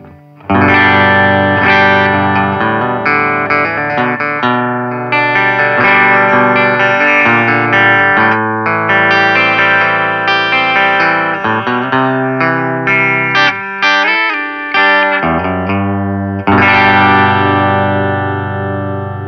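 Framus Panthera Pro electric guitar on a clean tone, bridge pickup with split coil, played as a steady run of ringing chords and single notes with short pauses and a fresh strum near the end, with no voice over it.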